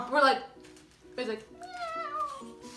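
A voice imitates a small cat's meow in a few short, high, wavering squeaks, fairly close and loud, with a longer drawn-out mew at the end.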